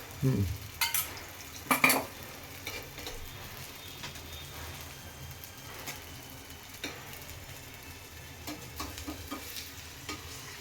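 A cheese egg roll fries in a little oil in a pan, a soft steady sizzle heard up close, broken by a few sharp scraping and utensil clatters near the start and scattered light taps.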